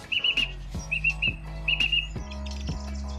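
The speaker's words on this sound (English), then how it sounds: "This song thrush right now" A song thrush sings outdoors in late spring, sharp repeated whistled phrases in short bursts separated by brief pauses, loud and close over a low steady background hum.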